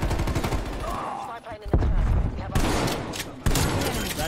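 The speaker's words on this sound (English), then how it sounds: "That shot went right through him and did nothing." Gunfire in Call of Duty Warzone comes as several loud, sharp reports separated by short gaps, with a spoken voice partly beneath the shots.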